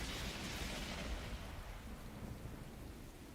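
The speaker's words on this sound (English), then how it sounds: "There was a sound like the sky ripping apart in a blinding flash of light." Thunderstorm in the video game The Hundred Line: Last Defense Academy, a low rolling rumble of thunder with steady rain hiss, fairly quiet and continuous, gradually easing off.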